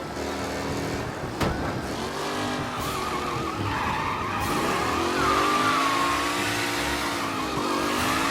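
Race cars skid with squealing tires on the final lap of a race in the Mafia Definitive Edition video game, a continuous loud engine roar and screeching rubber filling the scene with no talk.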